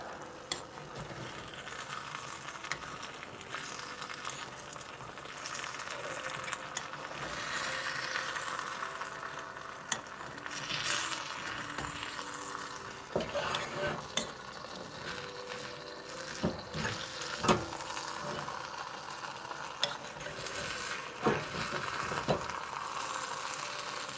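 Matsutake claypot rice with Chinese sausage being stirred in a hot claypot, a steady close sizzle and scraping with occasional sharp clicks of the utensil against the pot, with no talking.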